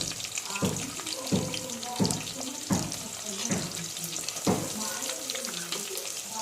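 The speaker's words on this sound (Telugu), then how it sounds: "ఇందాక కట్ చేసి పెట్టుకున్న ఆనియన్ వేసేసుకుందామండి. పచ్చిమిర్చి కూడా వేసేసేయండి." Chopped onions and green chillies sizzle in hot oil, a steady crackle broken by several soft thumps and clatters of a utensil in the pan.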